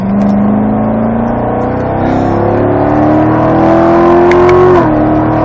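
A race car on track accelerates hard at full throttle, its engine note climbing steadily in pitch for several seconds before a brief dip near the end, loud and close with continuous roar and no talk.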